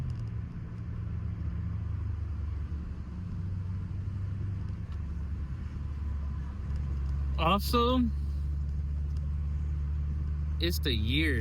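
A BMW 750i twin-turbo V8 drives along with a steady low engine drone and road rumble heard from inside the cabin, while someone briefly talks over it near the end.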